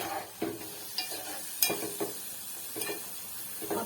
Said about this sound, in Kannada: ಅದಕ್ಕೆ ಮೀಡಿಯಂ ಉರಿಲೇ ಇಟ್ಕೊಂಡು ಕ್ಯಾರೆಟ್ ಎಲ್ಲ ತುಂಬಾ ಗರ್ಗರಿ ಆಗಬೇಕು